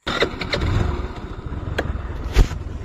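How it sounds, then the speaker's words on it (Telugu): A second-hand motorcycle engine cranks and catches, then settles into a low, close rumble with a brief rev near the end. "సో బైక్ అయితే స్టార్ట్ చేశాను."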